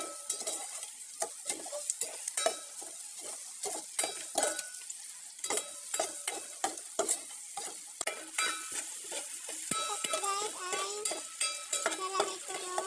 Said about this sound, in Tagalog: nagisa natin itong bawang, sibuyas, bawang, luya